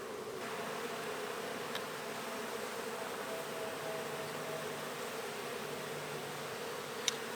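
A dense swarm of bees drones continuously around an open-air hive, a steady, close buzz holding level throughout with a faint tick near the end.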